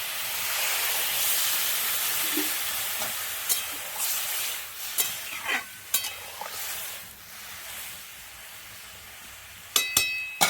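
Water is poured over lightly fried vegetables in a pan for a gravy, producing a loud hissing, steaming sizzle with scattered stirring clatter and a few sharp metallic knocks near the end.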